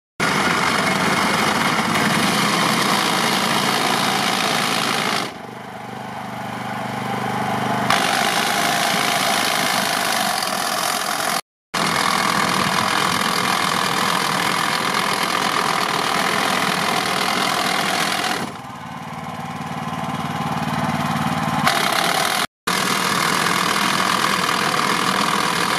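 Hami Tiller Plus 13 horsepower petrol grass cutter engine running steadily and loud, with a continuous drone and brief dips in load, no talking.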